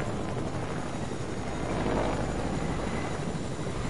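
Steady rotor drone of a helicopter in a video game, continuous and fairly loud, with no talk over it.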